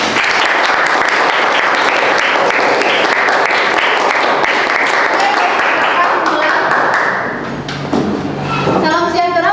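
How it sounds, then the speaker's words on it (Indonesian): An audience applauds a presenting student group in a class session, a dense, steady wash of clapping that fills most of the stretch before thinning out as a voice begins to speak near the end. "kita kasih tepuk tangan dulu untuk kelompok ini"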